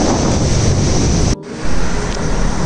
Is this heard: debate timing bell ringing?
no